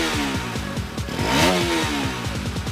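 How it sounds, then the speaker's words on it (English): A BS4-compliant Bajaj Pulsar motorcycle engine runs with a steady, throbbing mid-pitched note that swells slightly in a brief rev at mid-clip. It is loud and close, with no voices. "The engine is now BS4 compliant and I still love the way it sounds."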